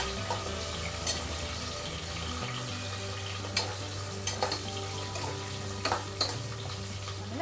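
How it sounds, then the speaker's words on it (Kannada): Cut chili peppers frying in oil in a pan for a menthya avarekalu pulao, a quiet continuous sizzle with occasional sharp clinks and scrapes of stirring, no voices. "ಅದನ್ನು ಕೂಡ ಆಯಿಲಲ್ಲಿ ಚೆನ್ನಾಗಿ ಫ್ರೈ ಮಾಡ್ಕೊತಾ ಇದ್ದೀವಿ ಇವಾಗ"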